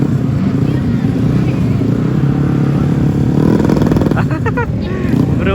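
Drag racing motorcycles at a championship event in Aceh rev loudly over a steady engine roar, with sharper revving bursts near the end. A voice talks over the engines.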